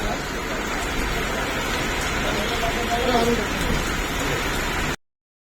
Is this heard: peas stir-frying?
no